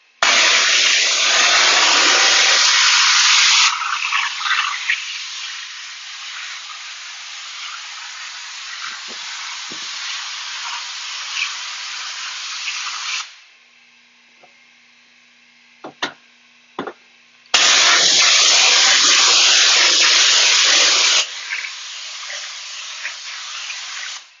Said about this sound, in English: And hit it with the power washer.